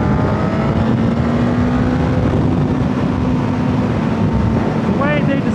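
A 2023 Suzuki GSX-S1000 engine, street-tuned, hums under heavy wind rush while riding a twisty road, a steady loud drone with a faint rising whine near the end.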